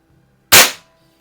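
One sharp, loud shot rings out close by from a circa-1950s Benjamin model 352 .22 caliber rifle powered by 8 gram CO2, a sudden crack that fades in a fraction of a second, with near silence on either side.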